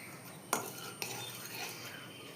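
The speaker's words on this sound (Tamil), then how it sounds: "இந்த சிக்கனை ஒரு அஞ்சு நிமிஷம் இப்படி சிம்மை வச்சு கிண்டி விட்டுக்கிட்டே இருக்கணும்" A spoon scrapes and stirs chicken gravy in a pan over low heat, two sharp clinks against the metal followed by soft, quiet scraping, close and faint with no talking.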